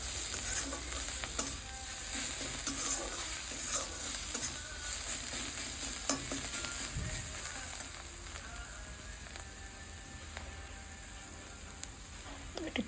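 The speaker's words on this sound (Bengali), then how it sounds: "পরিমাণ মতো হলুদ গুঁড়ো, লঙ্কা গুঁড়ো দিয়ে একটু নেড়ে চেড়ে নিচ্ছি।" Vetki fish masala with turmeric and chili powder is stirred in a frying pan, giving a steady close sizzle with scrapes and stirring clatter that thins out gradually toward the end, with no speech.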